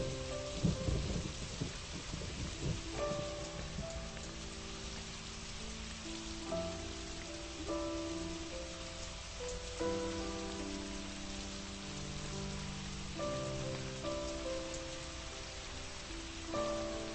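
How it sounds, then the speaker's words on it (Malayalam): Steady rain falls with rolling thunder in a film scene, a dense even wash with low rumbles and tonal music underneath, fairly quiet overall and with no talk. "എനിക്കും മഴ ഭയങ്കര ഇഷ്ടമാണ്."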